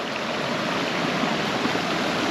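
Steady rushing flow of a river stream near a small waterfall in Baja, a dense continuous wash of water filling the clip at close range with no voices.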